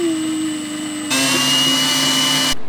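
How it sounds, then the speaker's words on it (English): A power drill whines steadily, then revs up into a louder, higher drilling burst that stops abruptly near the end. "we're gonna drill the holes get them drilled in both"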